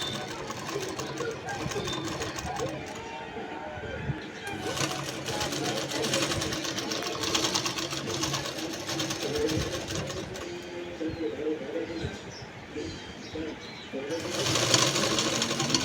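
A sewing machine stitches a princess-cut blouse in close, rapid whirring bursts that start, pause and resume, with faint background sounds between runs.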